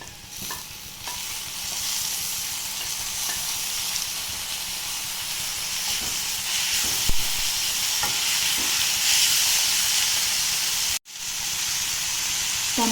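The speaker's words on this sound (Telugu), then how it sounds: "ఇప్పుడు టమాటా వేసుకుంటున్నాను." Tomatoes tumble into onions frying in a pan, setting off a loud, continuous sizzle with stirring scrapes and a brief break near the end, no talking.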